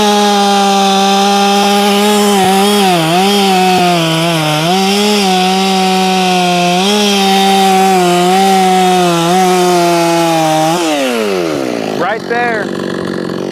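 A repaired, ported Efco 165 chainsaw runs loud and close at high revs, its steady whine dipping briefly under light load and then winding down near the end.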